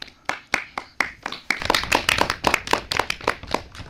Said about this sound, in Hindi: तो दोस्तों टीम बी के लिए जोरदार तालियां।